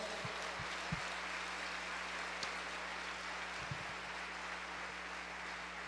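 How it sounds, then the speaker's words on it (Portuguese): A church congregation applauds during a worship service: dense, steady clapping blurs into an even rain-like hiss for the whole stretch, moderately distant, over a low constant hum with a few soft knocks. "Vamos dar um aplauso."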